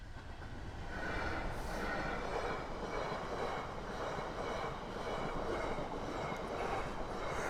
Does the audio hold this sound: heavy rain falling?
no